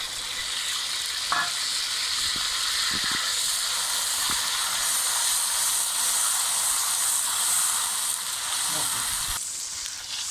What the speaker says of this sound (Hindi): प्याज को हम हाई फ्लेम पे तकरीबन 5 मिनट के लिए अच्छी तरह भून लेंगे, जब तक ये गोल्डन ना हो जाए।